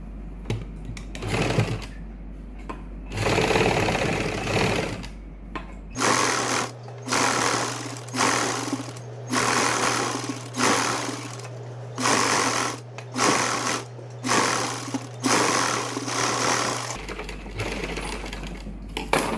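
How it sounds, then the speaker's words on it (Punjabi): A sewing machine runs a top stitch along the hem of a kurti, its rapid, steady mechanical chatter close and loud, interrupted by brief pauses with a constant low motor hum beneath. "ਇੱਕ ਆਪਾਂ ਟੌਪ ਸਟਿਚ ਲਾ ਦਾਂਗੇ ਇੱਥੇ"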